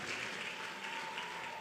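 Hands clap in a steady, fairly faint patter of applause from a group, continuous and even throughout with no voices standing out.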